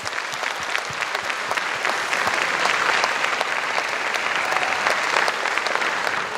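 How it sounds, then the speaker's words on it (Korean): Audience applause at a youth orchestra concert in Ho Chi Minh City, with steady crowded clapping that swells slightly midway and carries on throughout, with no voices over it. "박수로"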